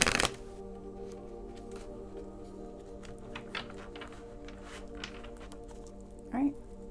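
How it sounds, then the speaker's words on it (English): Tarot deck being shuffled in a quiet room, soft repeated riffling and flicking of cards at low level, with a sharper knock at the start and a faint bump near the end. "Final shuffle."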